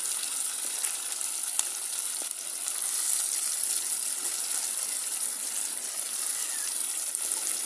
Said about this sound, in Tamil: இப்போ நாங்கள் கலந்து வச்சுருக்கிற திருக்க மீன் துண்டுகளை எடுத்து பரவலாக